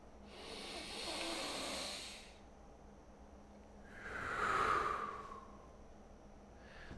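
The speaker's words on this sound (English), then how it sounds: "I'm gonna take a deep breath, and I want you to take a deep breath with me" A slow deep breath drawn in and let out, soft and airy, with a second hissing exhale that rises louder near the middle and fades, close to the microphone in a quiet room.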